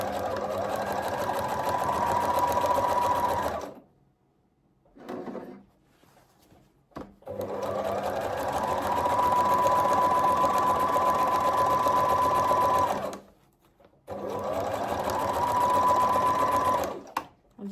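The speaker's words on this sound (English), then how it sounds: "As you're sewing, it's coming together." A sewing machine stitches a shirred dress in three long, steady runs of fast whirring, close and loud, broken by short pauses with soft handling clicks and no speech.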